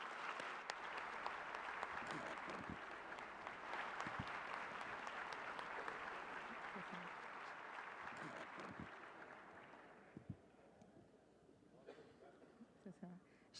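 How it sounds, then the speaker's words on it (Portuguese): Applause closing an international defence and security symposium, a broad wash of clapping from a large audience, fairly distant and soft, holding steady before fading out with a few final claps. "Uma salva de palmas para todos nós."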